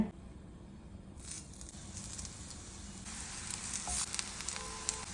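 Rava-coated raw banana slices fry in hot coconut oil, a soft steady sizzle that grows a little louder partway through, heard close with no voices.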